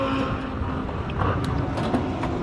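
GT World Challenge race car engine left running as the car sits stopped in the pit lane at Sonoma Raceway, a rough, rumbling mechanical drone mixed with clanks and pit-lane bustle, close and fairly loud throughout.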